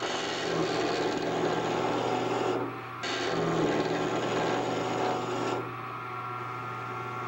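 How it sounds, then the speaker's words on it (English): A skew chisel cutting wood on a spinning lathe: a loud, steady shearing hiss with motor hum, broken by a brief drop as the tool lifts, then resuming before cutting off to the quieter running lathe. "I bring it up, get on the bevel, cut."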